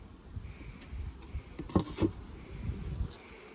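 A low, droning buzz of honeybees around their hives hums softly and steadily, swelling briefly in the middle.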